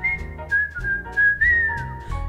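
A single person whistles a lilting tune, the melody sliding through sustained notes and phrases, close and clear, no voices alongside.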